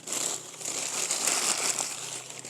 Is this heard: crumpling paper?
yes